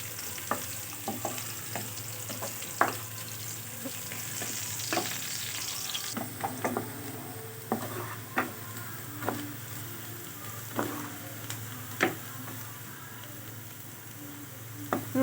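Onions frying in oil until brown, with garlic, for an aloo bharta, giving a steady close sizzle broken by sharp clicks and scrapes of stirring.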